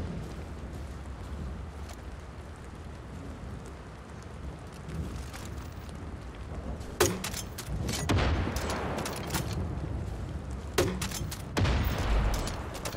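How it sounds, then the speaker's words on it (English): Enemy gunfire and explosions in Far Cry Arcade, with sporadic loud bursts of shots cutting through a low rumbling background, sounding fairly close. "Okay, they're shooting again."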